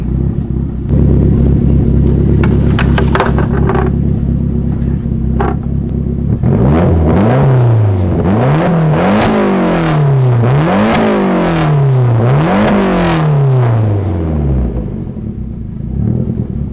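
A drift car's engine cranks, catches and starts with a loud burst, then revs hard in repeated rising and falling sweeps, close and dominant over a rough idle.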